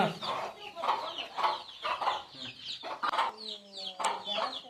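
Country chickens in a stepped perch coop cluck repeatedly in a steady, close chorus of short rhythmic calls, with a few higher squawks layered over the flock.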